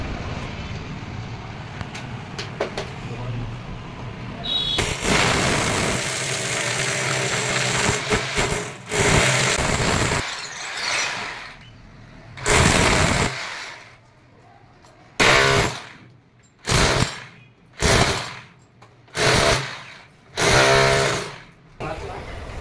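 A power drill bores a hole through a wall to pass split AC pipes from indoor to outdoor unit, loud grinding bursts starting and stopping repeatedly, the later ones short and regular with pauses between.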